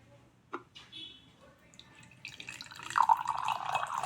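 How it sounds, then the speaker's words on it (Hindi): Water is poured into two containers, starting with a few faint drips and splashes, then a steadier trickling pour that grows louder toward the end. "हम दोनों में पानी डाल रहे हैं"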